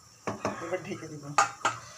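A metal lid is set onto a cooking pot of winter vegetables with lentil bori, giving a few sharp clanks and rattles, two close together, a pause, then two more as it settles.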